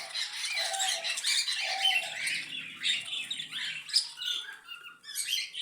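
Pet birds crowd around a cage, chirping and squawking continuously in a dense, high-pitched chatter, close by with light fluttering and no talking.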